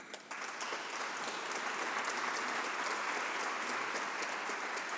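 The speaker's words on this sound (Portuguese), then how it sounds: "eu quero pedir aqui uma salva de palmas" Audience applause at a medal award ceremony, a sustained crowd of clapping hands that starts abruptly and stays even and fairly faint throughout.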